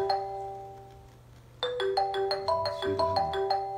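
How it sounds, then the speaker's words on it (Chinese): A mobile phone ringtone plays a bright, repeating electronic melody, starting with a sustained tone and then stepping through quick chiming notes, fairly loud and close with no talk. "手机响。"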